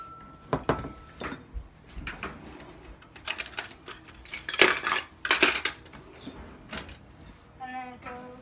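Homemade ice cream scooped out of the machine into containers in a cabin kitchen, a string of scattered metallic clinks and scrapes of utensil against tub, a few louder knocks midway, with a brief voice near the end.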